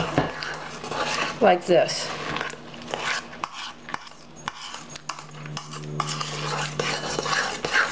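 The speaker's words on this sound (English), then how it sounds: "Now take your spoon and gently, you want to use a folding motion." A spoon folds cookies and cream cupcake mixture in a bowl, soft scraping and a few clinks against the dish, with a person talking over it.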